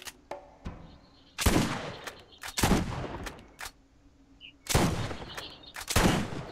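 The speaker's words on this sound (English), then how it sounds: "Rocket launcher." A rocket launcher and gunfire from the shooter game Borderlands. Several sharp, loud bursts of shots and blasts come in irregular clusters, with quieter gaps and small clicks between them.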